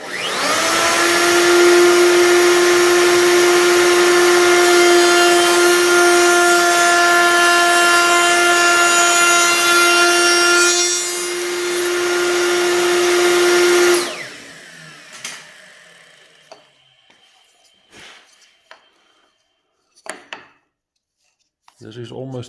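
A router cuts wood for a rail and stile door with a loud, high, steady whine that runs for about fourteen seconds and then cuts off. Scattered light knocks and handling noises follow in the quiet.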